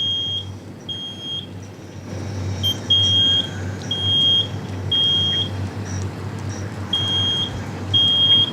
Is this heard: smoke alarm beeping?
yes